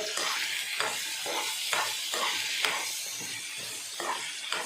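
Capsicum frying in a pan for palak paneer, with a steady close sizzle and repeated stirring scrapes at a regular rhythm throughout.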